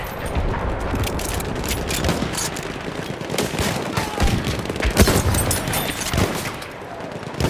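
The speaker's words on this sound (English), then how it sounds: "Shock trooper spotted. Machine gun." Dense, continuous machine gun fire fills a Battlefield 1 battlefield, rapid bursts layered with scattered explosions and crackling gunfire throughout, loud and busy with no pauses.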